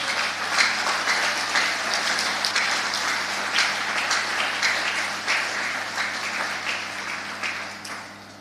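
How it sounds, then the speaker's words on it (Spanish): Church congregation applauding during a Spanish-language sermon, a loud, sustained burst of many hands clapping that holds steady and then begins to fade at the end. "¿Será que le puede dar un fuerte aplauso al Señor por eso?"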